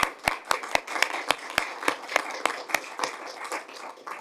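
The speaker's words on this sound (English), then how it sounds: "maybe we should give you a round of applause." Clapping at a council cabinet meeting, in a sparse, steady rhythm, sharp and close, with only a few pairs of hands joining in.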